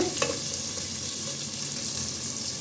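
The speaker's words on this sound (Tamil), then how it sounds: "லேசாக வதக்கலாம் அப்படியே இப்போ வெங்காயமும் வதக்கியாச்சு" Onions sautéing in a pan give a steady, even sizzle with faint scrapes of stirring, close and continuous, with no voices.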